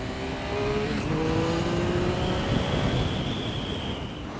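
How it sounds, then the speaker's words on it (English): A Triumph Speed Triple S motorcycle accelerates on a highway, its engine note climbing steadily through rising harmonics under constant wind roar, loud and close throughout. "Okay, a bit of highway acceleration."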